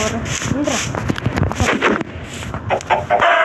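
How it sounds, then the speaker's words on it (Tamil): Minecraft chicken clucks and a crow play amid lively, overlapping talk from several voices, loud and close. "இங்கே ஒரு கோழி போட்டேன்"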